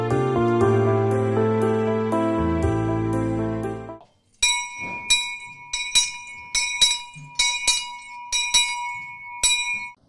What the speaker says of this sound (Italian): ha appena suonato la campana